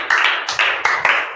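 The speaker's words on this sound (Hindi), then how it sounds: "बालक के लिए तालियां हो जाएं" A small group in a classroom setting gives a child a few sharp, scattered claps, four distinct loud bursts spaced unevenly over about a second, close by.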